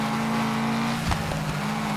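Steady racing engine at full throttle in the off-road racing game Gravel, holding a loud constant drone with a brief surge of other engine noise passing near the middle, no voices.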